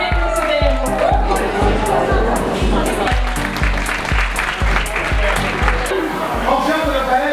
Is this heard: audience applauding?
yes